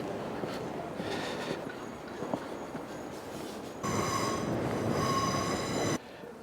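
A train at Edinburgh Waverley Station rumbles steadily, with a sustained metallic wheel squeal rising in the middle and cutting off near the end; no one speaks.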